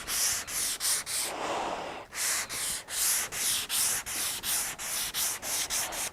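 Rhythmic hand sanding of a hail-damaged Honda Accord roof, a steady series of brisk back-and-forth rasping strokes up close, with one longer stroke early on.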